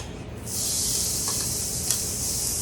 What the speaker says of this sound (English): So I added some olive oil to my pan, and now I'm going to add some onion